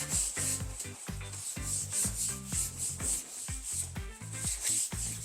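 Steady rhythmic rubbing of sandpaper over a lacquered wooden tabletop, repeated back-and-forth strokes, close and fairly quiet, with no talking.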